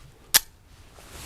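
Single sharp, close pistol shot from a Girsan MC14G84 firing Hornady American Gunner 90-grain .380 ammunition, a brief crack followed by quiet.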